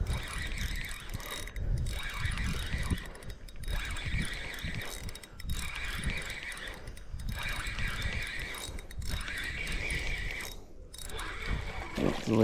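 Fishing reel drag clicks steadily while a fish is reeled in on an outdoor saltwater trip after a hurricane, a continuous mechanical ratcheting over wind and water noise, close and moderately loud.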